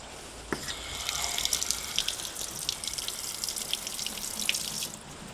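Water runs from a tap after the household supply is turned back on following a quick plumbing fix, starting with a sudden splash and then a steady close gushing, spattering flow that continues alone.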